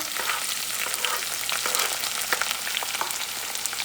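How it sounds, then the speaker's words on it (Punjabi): Green chilies dropped into hot oil with toasted cumin, giving a steady, close crackling sizzle with sharp pops throughout and no voices. "ਲੋ ਜੀ ਜੀਰਾ ਆਪਣਾ ਗਰਮ ਹੋ ਗਿਆ ਤੇ ਆਪਾਂ ਇਹ ਚ ਪਾਵਾਂਗੇ ਹੁਣ ਆਪਣਾ ਹਰੀ ਮਿਰਚ"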